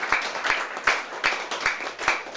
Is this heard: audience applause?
yes